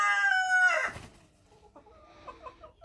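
In the evening, a rooster crows loudly up close, followed by softer, scattered clucking from several hens.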